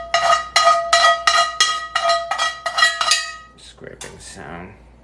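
Metal scrapes across a greasy cast iron skillet, a 2022 Cracker Barrel "Lady Liberty" pan used for sausages, in about eight harsh, ringing strokes up close, followed by softer clanks and rattling at the end.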